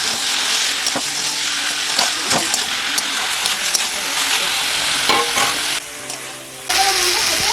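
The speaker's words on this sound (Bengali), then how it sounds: "এরপর আমি চিকেনটা দিয়ে দেব, দিয়ে আমি বেশ কিছুক্ষণ নাড়াচাড়া করব।" Chicken frying with spices in a pan, giving a loud steady sizzle close by, broken by repeated scraping stirs and a brief lull in the hiss near the end.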